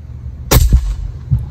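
A single sharp crack from an AirForce airgun fired through a chronograph, loud and close, followed by a short ringing tail and a faint later thump.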